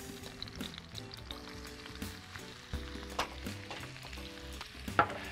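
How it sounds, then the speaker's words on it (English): Chopped shallot and four garlic cloves fry in a pan, a steady low sizzle broken by scraping stir strokes and a few sharper utensil clinks, with no talking. "That's one chopped shallot and four cloves of garlic. Just stir them all around."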